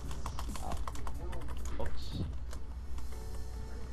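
Rapid clicking keystrokes on a computer keyboard, uneven bursts of taps close to the microphone, with game sounds and a person talking in between.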